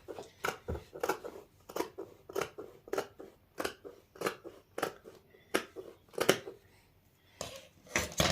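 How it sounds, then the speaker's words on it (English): Scissors cut fabric for homemade baby leggings, a string of crisp, close snips in an irregular rhythm with short pauses between cuts, heard alone without talk. "then I'm going to cut separately the bottom piece"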